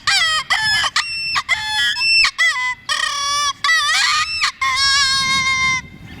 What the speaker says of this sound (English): That's actually the sound that a rabbit would make if a predator was chasing that rabbit.